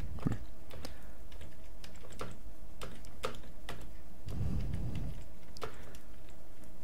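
Close, steady clicking of computer keyboard keys as commands are entered in the PyCharm IDE, with evenly spaced sharp taps and a brief muffled rustle midway, no talking.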